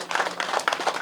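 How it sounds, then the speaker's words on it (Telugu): A crowd at a wedding anniversary gathering at a pyramid hall in Khammam claps loudly for their guru, a brief burst of continuous applause. "గట్టి క్లాప్, బిగ్ క్లాప్."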